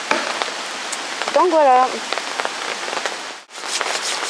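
Rain falling on a campsite during a bushcraft bivouac, a constant hiss of drops spread evenly through the clip, with brief speech and a short whistled or sung note partway through.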